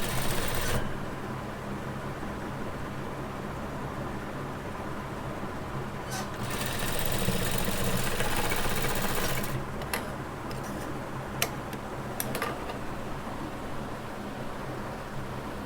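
Sewing machine stitching baby frock fabric, a steady continuous mechanical whir running throughout at close range, with a brief louder burst midway and a few light clicks near the end.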